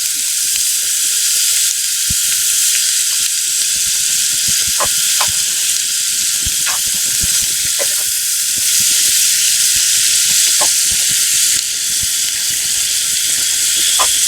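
Rocky mountain trout frying in butter in a pan outdoors, a steady close hiss and sizzle with scattered small pops and crackles throughout.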